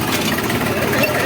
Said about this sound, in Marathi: आम्हाला एक बुवा भेटले ट्रॅक्टरवाले आणि आम्ही या ट्रॅक्टरमधून चाललोय